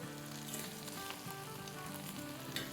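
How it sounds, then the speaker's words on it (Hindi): Ginger frying with coriander powder, Kashmiri and regular red chilli powder and turmeric in a pan for mirch ka salan, a steady close sizzle running the whole time without pause, no voices over it. "अदरक को भूनते हुए 2-3 मिनट हो गए हैं।"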